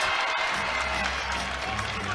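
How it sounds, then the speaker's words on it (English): A crowd at a women's college basketball game, Maryland against Washington, cheers and applauds steadily after a foul on a guard, a loud dense wash of clapping and voices throughout. "Yeah, you can feel the crowd just getting into this one."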